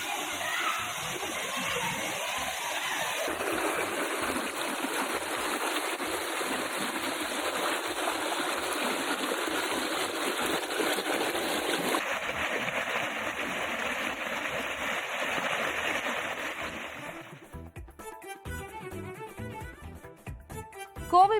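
A waterfall inside Krishnapuram reserve forest near Courtallam roars as a steady, loud broadband rush of falling water, continuous and close for most of the stretch before the sound thins and shifts near the end.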